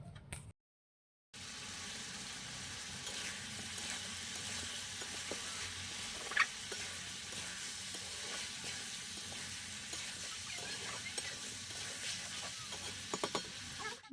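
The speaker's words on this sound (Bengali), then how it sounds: "এখন আমি এই চামড়াগুলোকে পেঁয়াজের সঙ্গে বেশ কিছুক্ষণ ধরে ভালো করে ভাজতে থাকবো" Chicken skins fry with onions in a pan over a wood-fired clay stove, making a steady, close sizzle with occasional stirring scrapes. The sizzle runs on continuously after a brief silent gap at the start.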